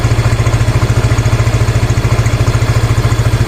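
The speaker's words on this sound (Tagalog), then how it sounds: "Ang bilis na po ng uh, rigodon or idle ng ating makina" A Yamaha Mio i 125 scooter engine idling fast and loud at about 1,700 RPM, a rapid steady chugging pulse close by with metallic clatter, no voices.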